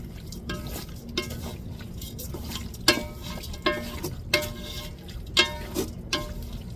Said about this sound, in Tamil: இப்போ நல்லா தாளிப்பில் நம்ம கிளறி விட்டுருவோம் கறியை